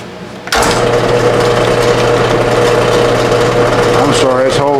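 Machine drilling a hole with a DRO oval hole function, a loud steady whirring hum that starts abruptly after a half second and holds constant, with a warbling tone near the end.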